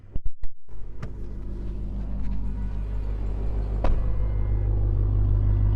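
A RAM 1500 TRX with a Hellcat V8 idles nearby, a deep steady rumble and low hum after a few sharp knocks at the start, continuous to the end.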